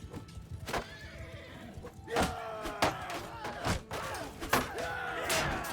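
Horses whinny during a massive medieval field battle in a strategy game, with several neighs rising over clattering hooves, thuds and a busy battle din.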